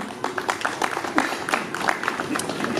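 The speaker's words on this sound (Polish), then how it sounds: "Wielkie brawa dla nich." An outdoor charity picnic audience applauds performers who traveled from Jasienica, a lively patter of many hands clapping at a steady, moderate level for the whole stretch.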